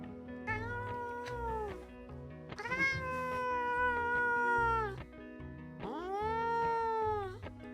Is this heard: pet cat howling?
yes